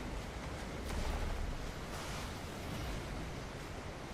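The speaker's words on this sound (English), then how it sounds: "This is fucking awesome. It's surrounded by waterfalls." Waterfalls roar in the video game ARK as a steady broadband rushing wash, quiet and continuous with slight swells, with no talk.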